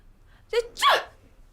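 A single sneeze, a short sharp intake followed by a burst, fairly close and clear against a quiet background.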